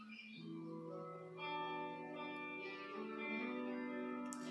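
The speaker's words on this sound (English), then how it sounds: "What you hear is a repeater loop going on" Layered music built on a repeater loop, with sustained ringing bell-like tones and drones stacking into a dense harmonic wash, played softly and steadily in the background with no talking.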